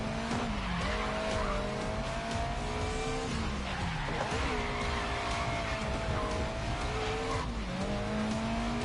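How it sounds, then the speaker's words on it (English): Tires squeal loudly and continuously as a race car slides through a corner on the handbrake in the racing game GRID Legends, with engine drone underneath and pitch sweeping down at each slide. "If you want to try a corner with a touch of handbrake, I'd like to see you control the slide."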